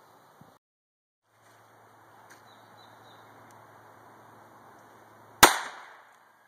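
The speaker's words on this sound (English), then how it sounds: "let's see what this Remington Target, 22 Target, will do to that zombie skull" A single sharp shot of a Remington .22 LR Target round, fired from an NAA Black Widow revolver into a ballistic zombie skull. It is a loud crack after several seconds of near silence and faint room noise, with a short fading tail.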